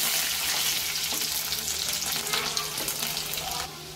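Garlic sizzles steadily in hot oil with cumin and mustard seeds, a dense, even frying hiss that runs throughout and thins slightly near the end.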